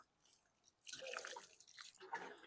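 Water trickles and splashes faintly into a container holding a dragon fruit cutting, starting after a quiet pause and continuing in soft uneven bursts, close but low in level.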